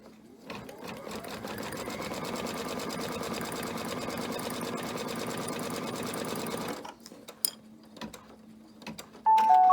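A sewing machine stitches red fabric onto white for a Fourth of July flag banner, running in a fast steady whir for several seconds, then stopping with a few clicks and a brief beep.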